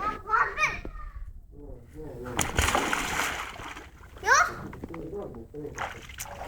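A child jumps into a backyard garden pool with a sharp splash, then water sloshes around while children chatter and shout close by.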